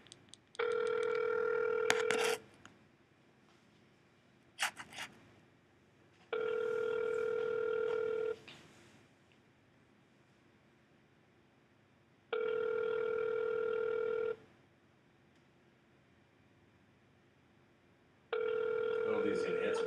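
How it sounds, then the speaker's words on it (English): A telephone call rings out unanswered. Four long, evenly spaced ring bursts of about two seconds each are separated by quiet gaps, with brief clicks between them at moderate volume. "Can we get Lucas on the phone?"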